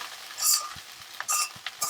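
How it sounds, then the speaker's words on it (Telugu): Egg fried rice being stirred and tossed in a hot pan, with sharp scraping bursts and light clatter from the spatula at irregular moments over a faint sizzle, close and with no talking. "ఇట్లా ఫ్రైడ్ రైస్ కలుపుతూనే ఉంటారు"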